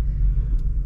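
A car engine strains in a low, steady rumble while stuck in light snow, close and loud, over a brief stretch.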